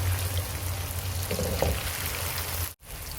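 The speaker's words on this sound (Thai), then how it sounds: "นำเต้าหู้ที่เราหั่นไว้แล้วนะคะ มาลงทอดค่ะ ให้มีสีเหลืองสวยค่ะ" Cut tofu pieces frying in hot oil, a steady close sizzle that holds evenly throughout, with a brief dip near the end and no talking.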